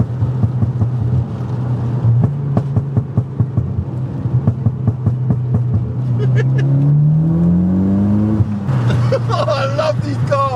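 An old Mitsubishi Evo X engine revs hard and climbs in pitch as it accelerates in bad weather, loud and close, with faint voices underneath.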